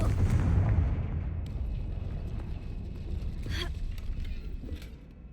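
A Confringo blasting spell goes off in a video game: a deep, loud boom at the start fades into a rolling rumble, with a few sharp crackles trailing afterward.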